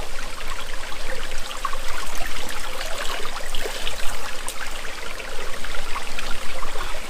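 Spring water runs down from the Marunthukottai Hills, trickling and splashing close by in a steady, fairly loud babble with no voices over it.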